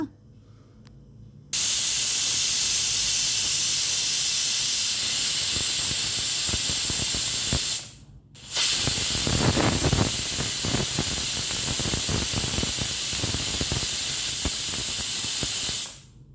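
A pressure cooker cooking chickpeas lets out a loud, steady hiss of escaping steam that runs continuously, drops out briefly midway, then resumes at full strength.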